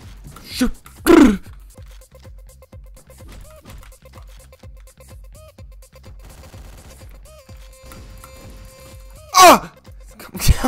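Shotgun blasts in Hotline Miami, two loud sharp bursts several seconds apart over a quiet electronic backdrop with faint tonal game sounds between.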